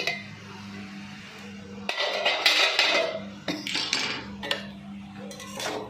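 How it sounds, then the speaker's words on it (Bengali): Vegetables are stirred in a pan for egg chow mein made with leftover roti. A utensil clinks and scrapes against the metal in irregular clusters, close up, with no talking. "এবারে সবজিগুলোকে আরও ভালো করে নাড়াচাড়া করে নিলাম।"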